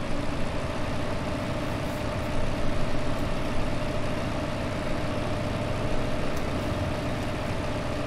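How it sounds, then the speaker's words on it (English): A tractor engine in the video game Farming Simulator 2015, running as a steady, low droning rumble that holds constant and fairly loud throughout with no change in pitch. "So yes, back into this tractor,"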